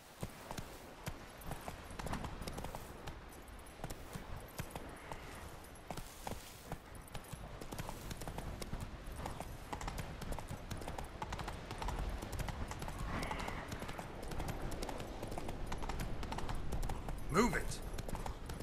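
Hooves of Roach, the horse in The Witcher 3, galloping with a rapid steady clip-clop under continuous game sound and speech, growing slightly louder toward the end.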